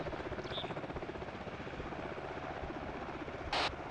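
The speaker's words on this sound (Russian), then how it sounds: "Наш вертолет, наш вертолет." A helicopter in the military video game ArmA 2 drones steadily with a rapid rotor chop, a continuous close, loud whirring throughout, with a brief sharp hiss near the end.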